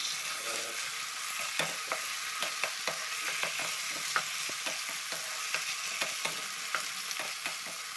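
Steady frying sizzle of ginger-garlic paste in a pan with scattered clicks and scrapes of stirring, close and continuous, no voices.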